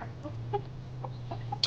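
A Shamo hen gives a few soft, short clucks at scattered intervals, faint against a low background hum in a poultry setup.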